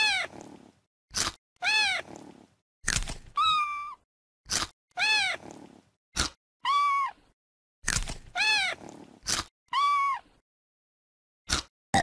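Repeated kitten meows from the CBeebies My Pet and Me pet-care video game, a dozen short mews and chirps spaced irregularly across the stretch with silent gaps, close and clear with no talking.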